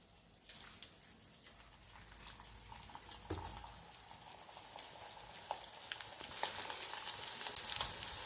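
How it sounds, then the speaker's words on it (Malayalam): Pieces of chicken for dragon chicken fry in hot oil over a medium flame, giving a steady close sizzle and crackle with occasional sharper pops, no voices. "ഇപ്പോൾ എണ്ണ ചൂടായിട്ടുണ്ട് ഫ്ലെയിം മീഡിയത്തിലേക്ക് മാറ്റിയിട്ടുണ്ട് ഇത് നമുക്കിതൊന്ന് ഫ്രൈ ചെയ്തെടുക്കാം"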